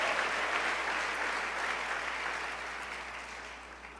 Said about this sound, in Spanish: Dale ese aplauso a Dios esta noche.